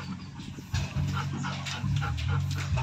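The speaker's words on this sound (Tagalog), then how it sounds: "Ang malalaking aso to," Two large dogs pant close to the microphone, quick rhythmic breaths with a low rumbling undertone, heard alone in short bursts without any talk.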